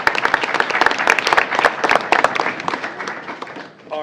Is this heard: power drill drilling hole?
no